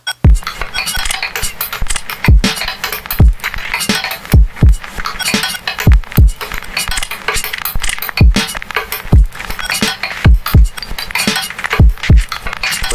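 A hissy, shimmering metallic texture with irregular low thumps scattered through it, a hi-hat run through compression and a granular delay, smeared into grainy, arrhythmic echoes, loud and dense.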